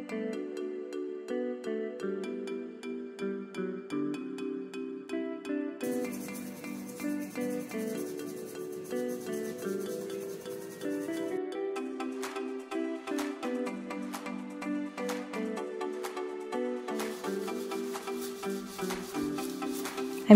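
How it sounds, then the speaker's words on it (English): A toothbrush scrubs grease and lint from the front vents of an oven, with vinegar and water spray used for cleaning, giving a steady close-up rubbing and scraping that repeats in quick strokes throughout with no talking. "I'm using a toothbrush to get into the vents in the front of the oven."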